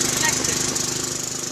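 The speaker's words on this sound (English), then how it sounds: "The lawnmower runs on methane, which means it should run on biogas." A lawn mower engine running on methane chugs in rapid, even pulses, a close buzzing putter with a slight rattle, sustained throughout.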